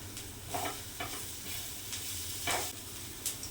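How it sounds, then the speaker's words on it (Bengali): Bottle gourd peels fry in a pan, with a steady sizzle under repeated scraping strokes of a spatula as they are stirred. The sound is close and moderate in level, and no one speaks. "লাউয়ের খোসা ফেলে না দিয়ে এইভাবে ভেজে একবার দেখুন"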